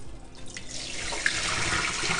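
Water poured from a cooking pot into a kitchen sink, a steady rushing splash that builds and stays fairly loud for a couple of seconds, with no talking.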